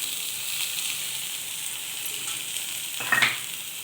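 Garlic and curry leaves sautéing in hot oil give a steady, close sizzle with soft stirring, and a brief louder hiss flares near the end.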